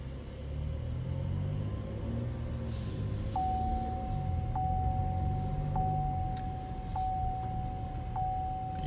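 A 2019 Chevrolet Traverse High Country rolls along a road, giving a steady low cabin rumble with road noise throughout, while a faint repeating chime pings at regular intervals in the second half.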